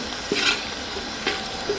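Chicken with masala spices frying in oil in a pot for biryani, a soft steady sizzle with a few short stirring scrapes at intervals, close and moderately quiet.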